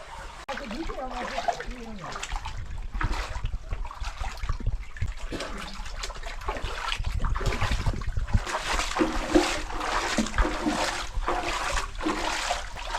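Water trickling and splashing through mud inside a dark, cramped tunnel, a continuous wet sloshing with irregular drips and swells that grow a little louder toward the end, with no clear talk.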